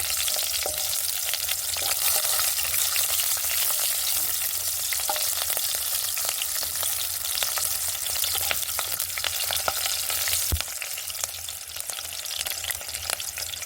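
Dried chillies and mustard seeds fry in hot oil in a kadai, a steady loud sizzle with crackling pops running throughout, the burst easing slightly near the end.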